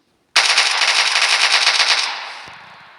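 An AK-47 automatic rifle in a modded video game fires one sustained burst of rapid rounds for about two seconds, loud and close, then cuts off and leaves a fading tail with a faint mechanical click near the end.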